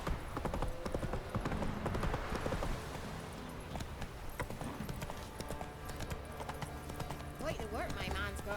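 Horse hooves gallop in a steady, rapid clip-clop in The Witcher 3, running throughout at moderate loudness with voices talking in the background.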